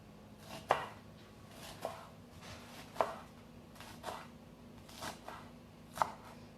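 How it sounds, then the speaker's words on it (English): Rolled kale leaves are sliced thinly with a knife for chicken soup, about six crisp, evenly spaced cuts against a board, quiet and close with nothing else around. "roll them into a little tiny tight roll, take your knife and just do some nice thin slices."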